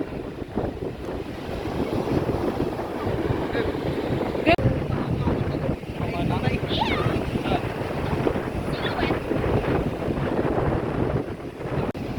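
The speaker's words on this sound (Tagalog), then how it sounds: "Ang lakas ng alon pala dito." Strong sea waves on a beach in Ilocos, a continuous rough roar of surf mixed with gusty wind buffeting the microphone, with people talking over it.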